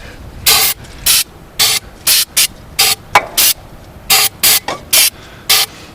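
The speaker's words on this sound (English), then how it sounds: "you got to get enough starting fluid in there to explode if something goes wrong" Starting fluid is sprayed in short hissing bursts into the carburetor of a 1998 Murray lawn tractor, about a dozen quick aerosol puffs in an irregular rhythm, loud and close with no talking.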